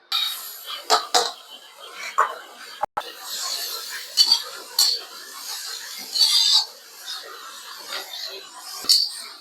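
Cut radish and a little carrot are stir-fried in a pan, heard as intermittent scraping and clinking of a utensil against metal, with faint sizzling and a brief voice.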